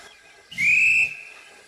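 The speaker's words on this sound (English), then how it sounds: "That's my guard's whistle." A guard's shrill whistle sounds at a railway junction, one sustained blast of just over half a second, loud and close, with a faint hiss beneath it.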